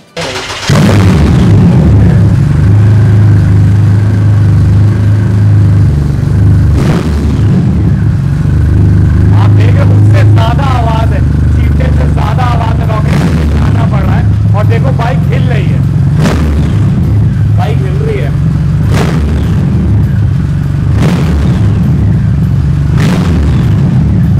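A sports cruiser superbike engine revs hard at a used-bike sale, a loud, deep, sustained roar with rising throttle sweeps and sharp pops and bursts over a steady idle, close and overpowering throughout.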